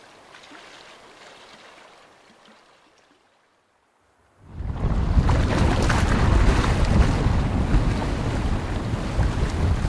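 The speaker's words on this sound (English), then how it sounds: "the wind was pretty strong immediately and looks like it's going to be for quite a while today" Strong wind buffets the microphone outdoors on a wilderness lake, a soft breeze at first, a brief lull, then a loud, sustained roar of gusting air and rough water.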